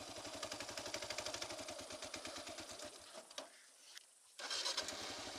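A Kawasaki KLR650 dual-sport motorcycle engine labours in deep sand, giving a loud, rapid pulsing thump that drops away briefly to near silence and then comes back strongly.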